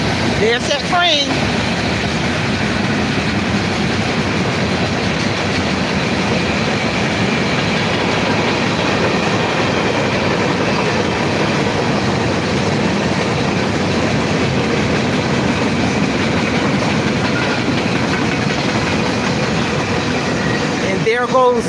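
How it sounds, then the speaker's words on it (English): A train rolls past nearby, a loud, steady rumble with rhythmic clickety-clack of railcars lasting over twenty seconds, with brief bursts of voice near the start and end. "And there goes that train."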